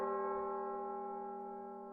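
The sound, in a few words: bell ringing at Zeus' altar in video game Fate/Grand Order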